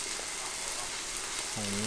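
Steady broadband sizzle of pork frying on a hot Thai tabletop grill, close and continuous, with a brief tonal sound near the end.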